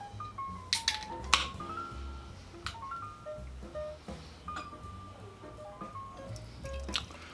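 Earth Eagle Circling Birds, a beer sold as a double India Pale Ale, being opened and poured, with scattered drips and a trickle of liquid filling a glass, close and fairly quiet, with no talking.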